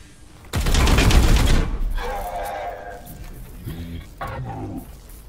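A dual explosion in the video game Warhammer 40k: Chaos Gate - Daemonhunters, a loud rumbling blast with crackling debris lasting about a second, followed by fainter in-game effects and brief murmured talk.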